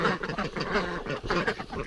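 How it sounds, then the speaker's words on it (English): A duck quacks close by in a poultry yard, with a run of loud, hoarse calls packed tightly one after another for about two seconds. "What are you doing, duck?"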